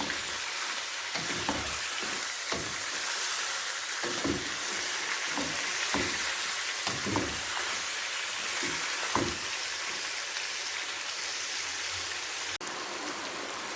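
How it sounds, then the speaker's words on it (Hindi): Chicken pieces frying hard with whole spices over high heat, a loud continuous sizzle like heavy rain, broken by repeated stirring scrapes and clanks throughout. "गोश्त मेरा बहुत ही अच्छे से फ्राई हो रहा है"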